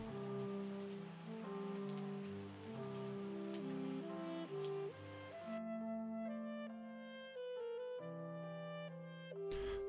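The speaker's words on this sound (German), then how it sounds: "jetzt regnet es wieder" Steady rain patters down in the farming video game Terroir, a soft broadband hiss under gentle game music with tonal notes, the rain noise fading out about midway while the melody carries on.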